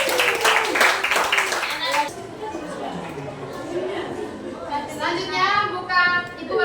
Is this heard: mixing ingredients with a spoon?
no